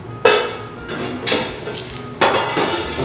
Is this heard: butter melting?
yes